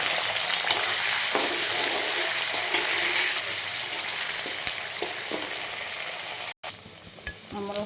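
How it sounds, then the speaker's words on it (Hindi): Paneer frying in hot mustard oil, a steady dense sizzle that runs close and loud throughout, with a brief cutout near the end before the crackle resumes alongside a few sharp pops. "हमर पनीर भाजी जाइए"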